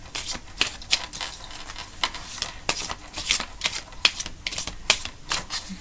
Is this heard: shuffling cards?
yes